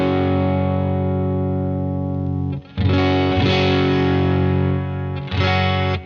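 Electric guitar played through a UAFX Enigmatic '82 Overdrive Special pedal set to the classic tone stack, giving a loud, sustained, driven chord that rings out, breaks briefly, then is struck again, alone and close.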